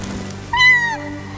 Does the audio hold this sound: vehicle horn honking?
no